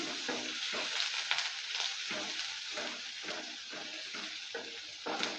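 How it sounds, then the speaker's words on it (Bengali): Chopped onion frying in a pan makes a constant soft hiss and crackle, broken by rhythmic scraping as the onion is stirred, quiet and close with no voices. "পেঁয়াজটা দেওয়ার পর ভালো করে আবারও নেড়ে নিচ্ছে"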